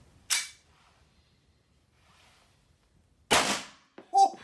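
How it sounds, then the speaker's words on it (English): Blank gun from Replica Weaponry fired indoors in an office: two sharp, loud cracks a few seconds apart, followed by a brief clatter. "A blank gun from Replica Weaponry in the office."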